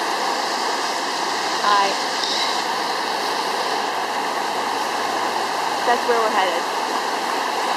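Rushing river water roars in a constant loud wash, close to the microphone, while a couple of people speak briefly over it.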